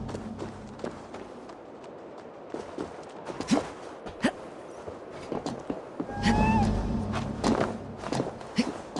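A small cat meows once in Assassin's Creed Valhalla amid soft footsteps and light thuds, a brief, fairly faint cry set against quiet game ambience.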